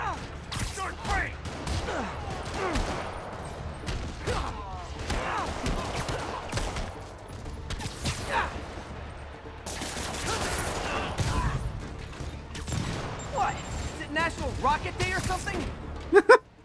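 Rapid gunfire bursts and heavy rocket blasts rattle through a fight in Marvel's Spider-Man Remastered, with voices talking between and over the shooting and a few sharp impacts at the end.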